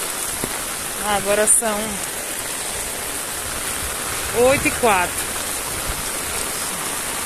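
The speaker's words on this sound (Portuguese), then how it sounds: "tá chovendo bastante." Heavy rain pours continuously as a dense, uniform hiss close around, broken only by two brief spoken phrases.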